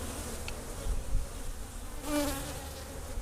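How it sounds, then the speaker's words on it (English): A mass of bees drones around an opened beehive during a spring inspection after storm damage, a close, continuous buzz that swells louder briefly toward the end. "Looks like we get a lot of bees moving about."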